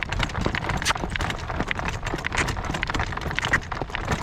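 A Morgan gelding trots along a road, its hooves clip-clopping in a quick, steady rhythm close by, with gusty wind in the background.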